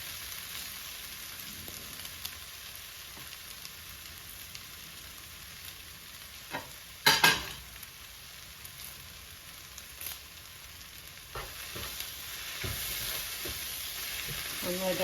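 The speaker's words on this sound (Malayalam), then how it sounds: "ഇതിലേക്ക് പച്ചമുളക് ഇട്ട് കൊടുക്കാൻ പോവാണ്." Green chillies and curry leaves fry in hot oil in a pan for Kerala-style prawns roast, a steady close sizzle with a burst of loud crackling spatter midway and light stirring scrapes later.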